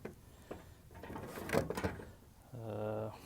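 Spare tire winch on a 2016 Ford F-150 being cranked with a tool, giving a steady mechanical ratcheting and grinding run of clicks near the end, after scattered handling clunks.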